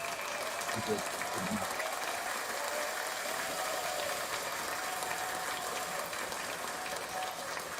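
Applause from a studio audience during a talk-show episode, a dense steady patter of clapping filling the whole stretch at an even level, with a few brief voices popping through near the start.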